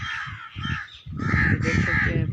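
Crows cawing at a green, tree-shaded Sufi shrine, harsh repeated calls in two bursts, fairly close and loud, with a short gap between them and rustling background noise.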